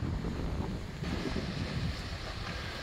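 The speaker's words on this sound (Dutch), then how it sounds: "Maar wat een wind, jongens. Grote storm vandaag" Strong storm wind buffets the microphone at a lock in Norway in a steady, roaring rush, with a fainter wash like water in the background.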